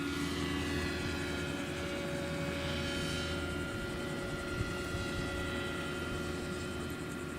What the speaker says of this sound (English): The aircraft's just about to get going.